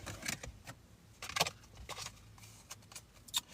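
Tarot cards are shuffled by hand in a series of soft, quick riffling bursts and taps. The bursts come in an irregular rhythm and are close and quiet.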